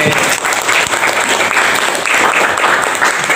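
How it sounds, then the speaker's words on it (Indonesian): Loud, continuous applause from a class of students rewarding a pupil's correct answer, a dense even wash of clapping that fills the room throughout. "Oh iya, bagus tepuk tangan buat Abe"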